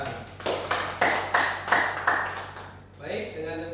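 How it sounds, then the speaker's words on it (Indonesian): Classroom students clap for a classmate in a slow, sparse rhythm, about half a dozen distinct claps spaced evenly, fading out before a voice starts talking. "Jadi tepuk tangan untuk Alan."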